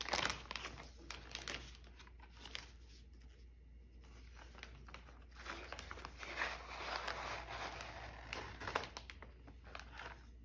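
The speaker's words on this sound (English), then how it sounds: "Now all I have to do is put this into a Ziploc bag." A plastic Ziploc bag crinkles while being handled, with faint, irregular rustles and crackles that come in short bursts close by, and no speech.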